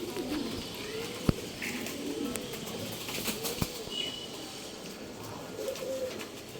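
Female Dubas pigeons coo in repeated soft rolling phrases, with occasional sharp wing flaps and clatters nearby in a cage setting.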